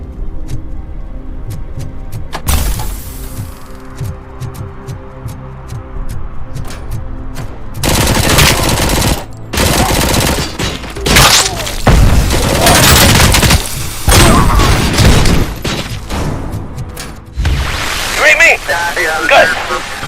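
Gunfire rattles through the RoboCop: Rogue City PC game in loud automatic bursts and heavy booms that come and go in waves, with voices under the shooting.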